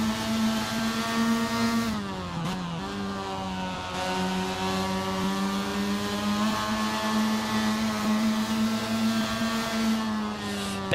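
A Formula Mazda race car engine in the Assetto Corsa racing game drones loudly and continuously, dipping briefly as it downshifts into a hairpin on the Autopolis circuit, then climbs back to a steady high-revving tone.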